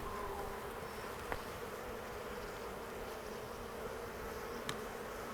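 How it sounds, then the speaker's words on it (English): Honeybees in an open beehive buzz in a steady dense drone, a faint continuous hum with a couple of brief ticks, no voices over it. "Lots of bees."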